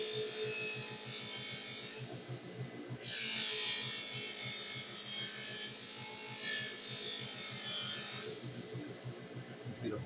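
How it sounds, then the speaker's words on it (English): A motorized green buffing wheel polishes a blade edge after sharpening, giving a steady close whirring hum with a brief dip and a later drop in intensity. "Then I go to a green buffing wheel"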